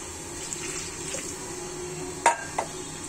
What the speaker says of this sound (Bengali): আরো একটু পানি অ্যাড করবো।